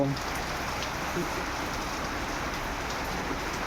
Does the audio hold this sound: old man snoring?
no